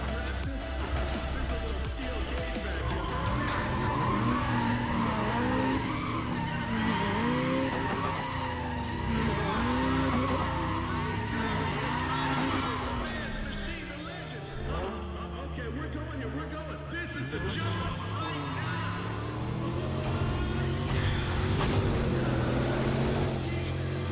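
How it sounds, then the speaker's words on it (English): Racing video game Need for Speed ProStreet: a car engine revs and rises in pitch through repeated clean gear changes, with tire skids, loud and continuous under a voice talking. "God, these gear changes are clean. And I really like that engine noise as well."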